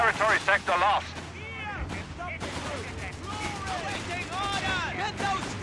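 Machine gun fire in the real-time strategy game Company of Heroes 3, with scattered sharp gunshot cracks and heavier booms across a battlefield, mixed under someone talking excitedly.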